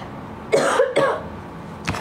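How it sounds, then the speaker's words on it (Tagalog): Two harsh coughs in quick succession, close by, followed by a short third burst near the end, with faint background hiss. "Inuubo ako."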